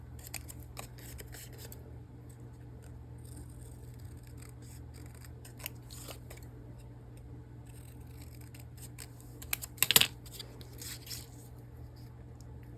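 Scissors snipping through paper for a mixed-media art collage project, a run of quiet close cuts over a steady low background hum, with a brief louder cluster of snips near the end.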